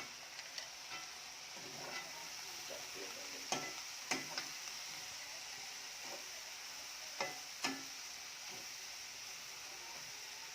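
Green chilli, ginger, garlic and shallots fry in a pan for a Malayali prawn rice dish, giving a steady soft sizzle under occasional light clicks and scrapes of stirring, close and fairly quiet.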